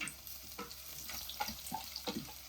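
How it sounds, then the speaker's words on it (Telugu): Garlic and dried red chillies frying in a pan over medium flame, a soft, quiet sizzle with occasional light stirring scrapes and small pops. "దీన్ని ఒకసారి ఇలా ఫ్రై చేసేసుకొని స్టవ్ని మీడియం ఫ్లేమ్ పెట్టుకున్నాం."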